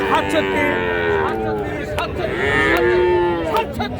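Sahiwal cattle, including a bull calf, low repeatedly at a farm cattle sale. The moos are loud and close, with drawn-out, wavering calls that overlap throughout.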